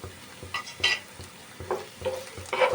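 Green chilies tossed into a hot pan for a chicken dana gravy, frying with a steady sizzle while a spoon stirs in irregular scraping bursts, close and moderately loud, with no talking.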